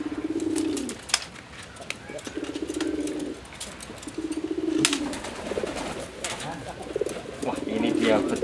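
Pigeons in a loft coo in repeated low, rolling phrases at a steady pace, with a few sharp knocks and rustles in between and the occasional bird call rising nearby.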